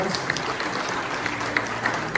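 A brief burst of audience applause at a Spanish-language talk, steady dense clapping from a crowd, fairly loud and with no voices over it.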